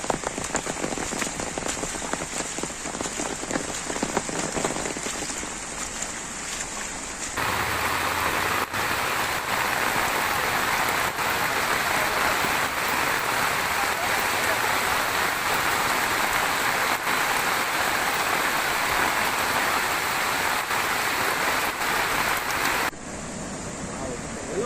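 Steady heavy rain drumming on surfaces across a Goa location during a downpour, a dense continuous hiss that grows louder and fuller after the first few seconds and eases slightly near the end, with no talk over it.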